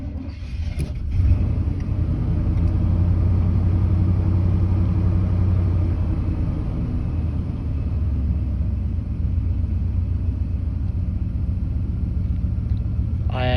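An older vehicle's engine, one with an idle air control fault, runs with a steady low rumble and a rough idle, loud and close throughout with no talking.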